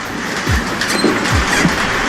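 London Underground tube train at Westminster station, a steady rumbling roar with rhythmic clattering of wheels over rail joints, loud and close, with no voices.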